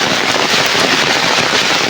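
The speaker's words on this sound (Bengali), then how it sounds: "আবার বৃষ্টি শুরু হয়ে গেছে," Rain falls outdoors during a wet walk along a road with trees. It makes a constant, dense hiss that stays even and fairly loud throughout, with no talking.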